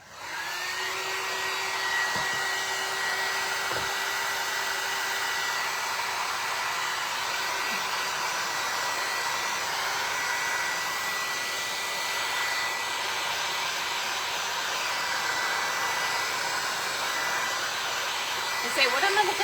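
Hair dryer blowing on a plaster of Paris craft piece, a loud continuous whooshing whine that holds steady for about twenty seconds with a faint clunk or two near the start.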